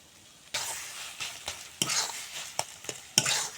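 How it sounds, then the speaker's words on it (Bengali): Cabbage mash with chopped green chili and mustard oil is stirred and mixed by hand in a bowl, giving faint, irregular wet squelches and scrapes in short bursts with brief pauses. "লঙ্কা ও সর্ষের তেল দিয়ে এখন ভালো করে মেখে নেব।"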